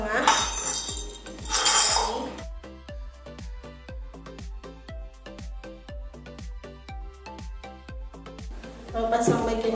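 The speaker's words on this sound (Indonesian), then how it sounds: "Lalu masukkan tiang ulirnya ke tengah-tengah." Metal parts of a mermaid centerpiece stand clink together as a threaded pole is fitted into the base and weight, a rapid run of bright metallic taps and knocks, with louder rustling handling noise at the start and end.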